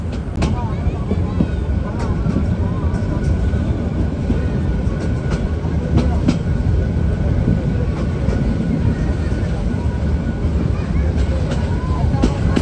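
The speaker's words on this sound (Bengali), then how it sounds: "এই মুহূর্তে আমাদের ট্রেন প্রবেশ করছে গুণবতী স্টেশনে" Sagorika Express passenger train rolling into Gunaboti station on the Chandpur to Chattogram line, a steady low rumble and rattle of wheels and carriages heard from on board with wind buffeting, continuous and loud.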